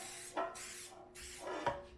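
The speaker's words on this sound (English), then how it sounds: "First I'm going to just spray my bread pans." Two short hissing bursts of cooking spray onto bread pans, close and fairly soft, separated by a brief pause.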